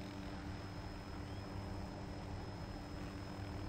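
A helicopter flies in the video game Arma, its rotor and engine making a steady, unbroken drone that sits fairly low and faint in the mix throughout, with no talking.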